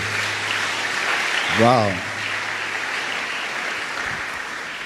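A church congregation breaks into broad, steady applause filling the hall, continuing throughout while a single exclaiming voice rises briefly above it.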